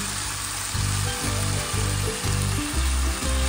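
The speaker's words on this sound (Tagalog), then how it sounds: "nilagay ko na ang sibuyas at ang ating luya. At ating haluin." Onion and ginger frying in chicken fat without cooking oil, stirred in the pan: a steady close sizzle broken by a regular rhythm of stirring scrapes.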